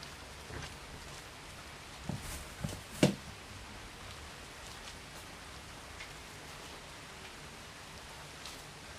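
Rain falls in a steady, soft hiss, with a few faint nearby knocks and thumps early on and no talking.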